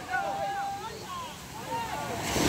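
Wind and rough sea waves buffet a small fishing boat, a steady rushing roar with surging swells, while someone talks excitedly over it.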